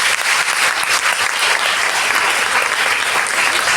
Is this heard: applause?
yes